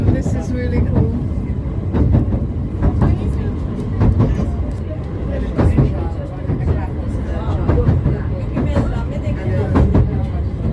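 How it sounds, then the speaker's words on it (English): Train rolling over the sea on the line to Southend-on-Sea at high tide, a steady loud rumble with rhythmic clatter pulses throughout, while people talk over it. "I've never been on a train over the sea before."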